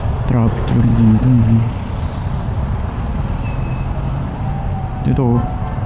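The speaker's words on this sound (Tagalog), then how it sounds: "Traffic lang dito." Road traffic on a Philippine street passes steadily, with vehicle engine rumble and a hiss like an air brake, while someone talks over the noise at close range.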